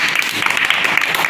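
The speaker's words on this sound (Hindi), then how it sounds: "बना लिया तो उसके लिए एक बार ताली बजा दो" A classroom of children clapping together after finishing a triangle drawing exercise, a brisk, dense burst of applause up close, short and even throughout.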